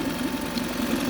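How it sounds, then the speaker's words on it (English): A new 2020 Tohatsu 9.8hp outboard engine idles steadily during break-in on ethanol-free gas, a smooth continuous mid-pitched hum with a fast even pulse, close and unbroken with no talk. "The engine's running really smooth."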